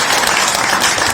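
An audience at a devotional gathering in Vrindavan claps hands in loud, dense, continuous applause that fills the whole moment without any speech over it.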